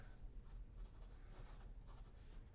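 A Sheaffer Triumph fountain pen with a fine nib writes on paper, giving a soft, continuous, close-up scratch of strokes over a steady low hiss, with no talking.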